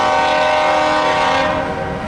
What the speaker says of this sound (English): This is a loaded ethanol train.